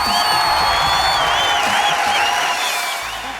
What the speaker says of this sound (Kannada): ಬನ್ನಿ ಚಪ್ಪಾಳೆ.